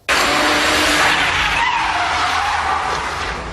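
Tires of a Peugeot 406 squeal as the car slides sideways during a film stunt, a loud continuous skid that holds steady for several seconds with engine noise underneath.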